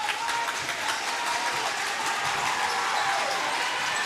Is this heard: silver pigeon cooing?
no